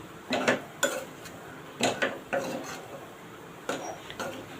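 A fasting-day potato vegetable, cooked without turmeric, stirred in a pan over low heat: a series of sharp spatula knocks and scrapes against the metal, in irregular bursts with quiet gaps, close by and without talk.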